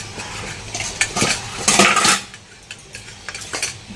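Metal utensils clatter and scrape in a pot while potatoes are layered over rice and mutton for a biryani cooked on a clay stove, with several bright knocks and rattles in bursts, close up and fairly loud, no talking.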